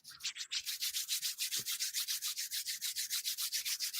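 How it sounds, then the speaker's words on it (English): Hands rub briskly together in a steady back-and-forth rhythm, about six strokes per second, each stroke a close, soft, dry swishing friction, alone without any voices. "We're going to rub our hands."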